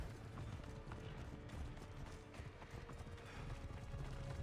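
Continuous rhythmic clip-clop of horse hooves at a steady gallop in a video game, with a dense rumbling mechanical background, fairly faint overall.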